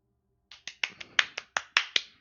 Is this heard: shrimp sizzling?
no